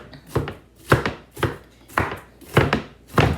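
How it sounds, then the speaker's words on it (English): A knife chopping an onion on a cutting board, a series of about seven crisp, close chops in an even, steady rhythm. "I'm just going to cut this onion like this because I'm going to end up cutting it up anyway."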